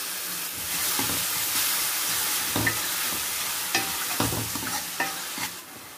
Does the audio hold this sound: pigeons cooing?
no